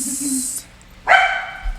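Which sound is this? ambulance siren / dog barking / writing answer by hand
dog barking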